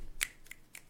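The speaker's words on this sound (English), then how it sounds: "Finger snaps." Three crisp finger snaps ring out close by in quick, irregular succession, each a sharp, bright click with near-silence between them.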